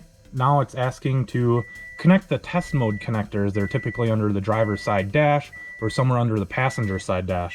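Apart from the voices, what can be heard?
Cobb Accessport beeping during ECU install on a Subaru STi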